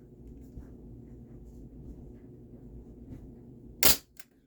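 An Umarex Ruger 10/22 air rifle fires a pellet with one sharp, loud crack near the end, followed by a fainter click, over quiet low background rumble.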